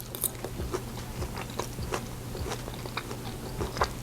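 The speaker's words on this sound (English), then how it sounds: "The crunch from the sesame seed and the fresh green onion." Close, steady chewing of a salmon rice bowl with sesame seeds and green onion, soft crunches repeating in an irregular rhythm over a low background hum.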